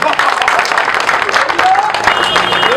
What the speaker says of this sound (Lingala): Acclamez pour le chef d'État.